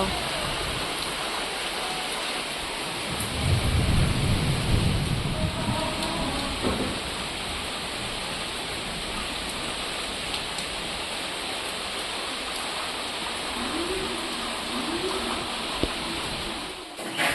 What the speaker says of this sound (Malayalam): പുറത്ത് നല്ല മഴ ചെയ്തുകൊണ്ടിരിക്കുകയാണ്